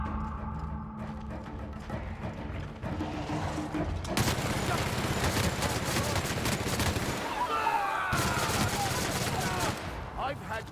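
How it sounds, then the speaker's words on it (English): Continuous gunfire in the video game The Outer Worlds, a dense, steady stream of shots layered under battle noise for the whole stretch, moderately loud and close. "Returning fire!"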